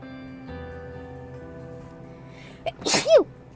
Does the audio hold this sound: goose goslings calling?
no